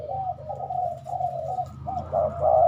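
A zebra dove coos close by in a soft, rolling, trilled series of notes, repeating with brief pauses against a low background hum.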